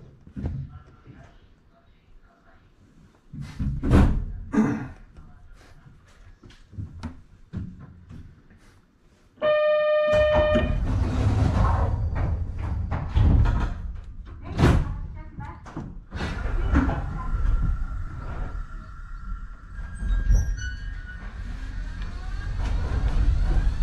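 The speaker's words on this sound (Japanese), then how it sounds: "扉が閉まります。 扉にご注意ください。" Doors of a Kobe Electric Railway semi-express train closing at a station, loud thumps and slams amid platform chimes and announcement voices, then heavy steady rumbling as the train sets off.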